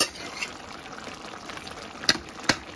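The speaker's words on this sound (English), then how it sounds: "see my squash, it's still cooking" Squash and beef simmer in a pot, a soft steady bubbling and hiss of cooking liquid with a couple of brief sharper pops near the end. No one speaks.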